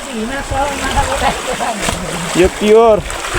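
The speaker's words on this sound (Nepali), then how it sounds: "चिसापानीबाट आउने खोला नि हो यो चाहिँ" Water of a cool stream fed from Chisapani near Beltar, Udayapur, splashing and rushing continuously at close range, with people talking loudly over it.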